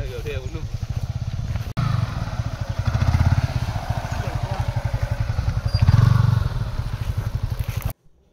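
A 2025 Yamaha R15 version 4 motorcycle engine runs steadily with a low, pulsing rumble, revving up briefly twice, close by and fairly loud.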